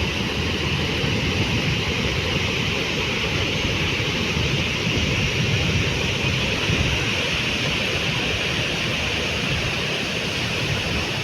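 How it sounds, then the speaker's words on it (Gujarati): Heavy rain pours steadily during a monsoon downpour near a dam, a dense, loud, unbroken rushing hiss with no pauses. "એટલો વરસાદ પડી રહ્યો છે આજે"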